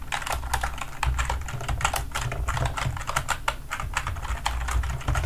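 Rapid, continuous clicking of computer keyboard keys, close and clear, as code for a D3.js script is typed. The keystrokes come in quick bursts with no talking.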